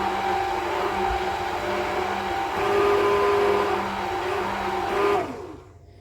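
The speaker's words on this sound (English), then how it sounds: "Give it another whiz. Slow speed." A blender whizzes mango milkshake at slow speed, a steady motor whir that holds for about five seconds, then cuts off abruptly with no talk.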